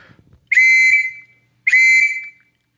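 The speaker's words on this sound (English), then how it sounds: "The whistle is very loud, and I'll blow it for you so you can get an idea." An antique Straits Settlements police whistle from around 1920 gives two sharp, shrill blasts, each about half a second long and very loud and close, separated by a brief pause.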